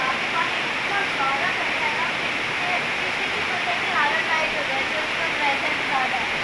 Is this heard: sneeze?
no